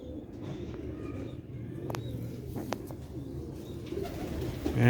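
Sialkoti black-faced pigeons coo softly in a low, throaty rumble, repeating steadily over a faint background murmur with a few sharp high chirps, and no talking.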